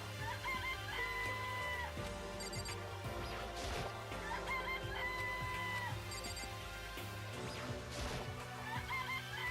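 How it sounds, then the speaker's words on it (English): Chickens cluck repeatedly in the Danganronpa Trigger Happy Havoc video game, set against steady loud game music with recurring melodic phrases and occasional crash-like hits. "It's a chicken."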